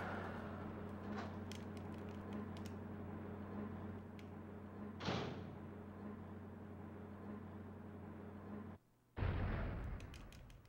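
Two heavy Magnum gunshots in Resident Evil 2 on the N64, booming seconds apart over a low droning game ambience, the second louder and followed by a fading tail.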